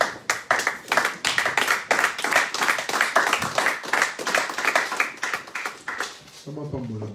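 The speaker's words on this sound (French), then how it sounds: "nous acclamons pour le Seigneur." Close, rhythmic clapping from a church congregation acclaiming the Lord, hands striking in a quick regular beat for several seconds, then a sung or spoken voice comes in at the end.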